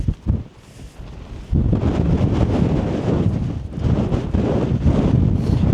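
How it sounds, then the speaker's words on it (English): Strong wind roars across a mountain summit, buffeting the microphone in loud, sustained gusts after a brief quieter start. "Let me take you out in the wind and you can see how windy it is out here."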